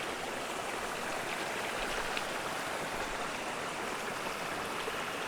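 A mountain stream in the Dolomites rushes over rock, giving a steady, close, broadband wash of flowing water that holds constant with no voices.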